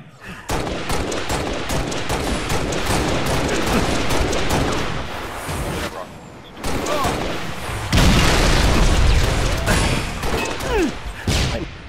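Loud, chaotic barrage of rocket explosions in a video game, sharp bursts and rumbling blasts piling up in rapid succession with a brief lull midway before a heavier volley.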